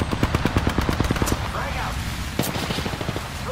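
Rapid automatic gunfire in the shooter Apex Legends, a fast rattling burst of close shots in the first second and a half, then scattered quieter shots and distant fire with game effects behind.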